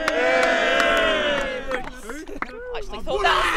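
A television studio audience cheers and shouts in a loud, sustained burst, voting on a grassroots amateur football goal, with mixed crowd voices swelling and dipping throughout.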